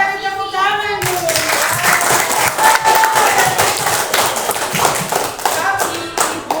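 Classroom students clap together in a burst of applause, dense and close, with scattered voices and a brief cheer over the clapping.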